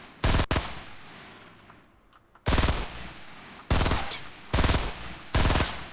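Fortnite gunfire while shooting at an opponent: a short burst, then four loud rapid-fire bursts spaced about a second apart, with quieter game ambience between them.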